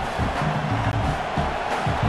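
Stadium crowd roar in a College Football video game, Clemson versus SMU, a steady dense wash of cheering with swelling bursts throughout, no speech.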